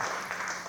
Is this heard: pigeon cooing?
no